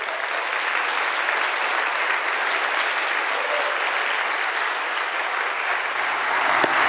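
Sustained, dense applause from a church audience welcoming a preacher after his introduction, steady and loud throughout with no talking over it.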